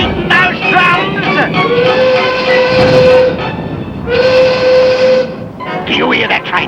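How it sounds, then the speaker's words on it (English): A train pulls away, with loud sustained whistle blasts over rumbling carriages and clattering rail noise, in a 1972 Australian film of Around the World in 80 Days. "Do you hear that train pulling away?"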